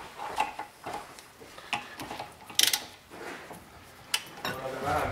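A bolt on a BMW M54 camshaft, modified to fit an M52/M50TU engine, is tightened as hard as possible with a ratchet wrench, giving sparse close metallic clicks and clanks spread over about five seconds.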